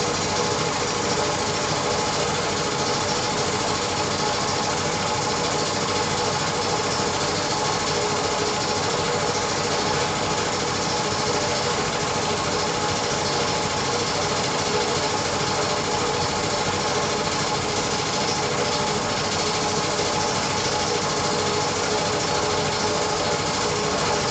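An air compressor powering an airbrush drones steadily and loudly for the whole stretch, a constant buzzing mechanical hum with no pauses, during a Gunpla model pre-shading session.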